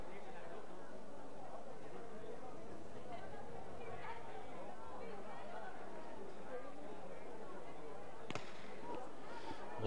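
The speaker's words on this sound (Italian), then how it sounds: "Lo sparo" A single distant starting-pistol crack at an Italian masters athletics championship race cuts through a steady stadium crowd murmur and a commentator's voice, sharp but faint against the hubbub.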